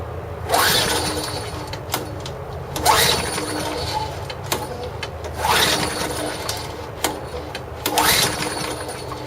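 Someone tries to start an overhead valve lawn mower engine by hand, four rasping pull-cord yanks in a slow rhythm with a whirring spin each time and no catch, close by.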